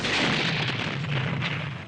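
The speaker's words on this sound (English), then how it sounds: "The island blowing up we did on the back lot at Pinewood" A model island blows up in a film effects explosion shot on a studio back lot, a dense, roaring blast of noise that holds steady and loud for about two seconds.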